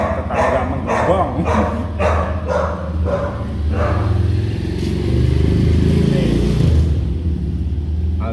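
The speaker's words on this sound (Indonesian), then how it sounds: "baru rame ada anjing tetangga menggonggong." A neighbor's dog barks in a quick run of repeated, moderately distant woofs, then falls quiet under a steady rumble of traffic or a passing motorbike.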